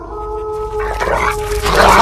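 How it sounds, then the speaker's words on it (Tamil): Several dogs at a dog farm bark, yip and howl in a loud overlapping chorus, starting with a long high whine and building into busier barking toward the end. "ஐயோ, என்ன நாய் பண்ணையா வச்சிருக்கான்?"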